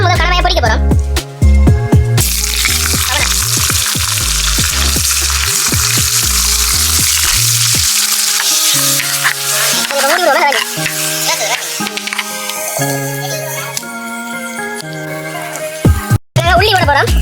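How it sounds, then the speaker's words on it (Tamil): Squid fries in oil, sizzling and crackling steadily, with stirring and clinking of utensils and a busy kitchen clatter throughout. "எண்ணெய் விட்டு கணவாயை பொரிக்க போறோம்"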